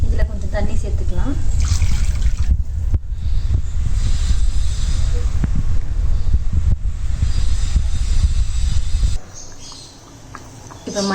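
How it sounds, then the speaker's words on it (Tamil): Water is poured into a pan of kadai paneer gravy with onion, capsicum and ground paste, a steady splashing pour that runs for several seconds before cutting off. "தண்ணி சேர்த்துக்கலாம்."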